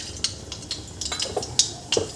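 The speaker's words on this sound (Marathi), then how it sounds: "इथे आपण कढईमध्ये तेल गरम करायला ठेवलेलं आहे. तेल गरम झालेलं आहे. यामध्ये आपल्याला मोहरी घालायची आहे." Mustard seeds go into hot oil in a kadhai for a Vidarbha-style green pigeon pea curry, giving sharp scattered pops and crackles close up over a quiet background, with no talk.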